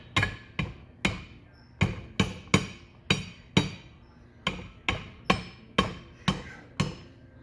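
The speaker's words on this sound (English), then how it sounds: "Once it's good seated, you can take a hammer handle," A hammer handle taps a Mini 300 torque hub down into its seat: about a dozen sharp, ringing knocks in a steady, slightly uneven rhythm, loud and close with no talking.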